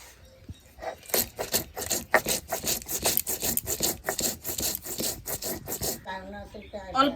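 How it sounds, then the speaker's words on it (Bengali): Cumin being ground into a paste on a grinding stone, a steady run of rhythmic rasping strokes, close and fairly loud, about a dozen back-and-forth scrapes before stopping, with brief talk at the end. "উপকরণটা করার জন্য কিছুটা জিরে বেটে নেব।"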